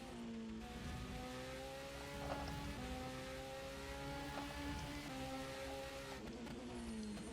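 A race car in a video game Grand Prix at the US Grand Prix, flat out on a straight with engine boost, its engine holding a loud, steady high-revving drone that steps up through several gear shifts with no break.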